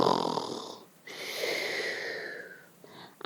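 A voice imitates a sleeping dormouse snoring loudly: two drawn-out, wheezy snoring breaths, close and clear, separated by a short pause.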